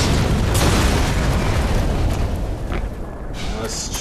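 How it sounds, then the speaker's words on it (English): Loud booming explosions in the video game Black Mesa roll one into another, dense and continuous, with a brief quieter stretch near the end before the rumbling returns. "There we go. Explosions!"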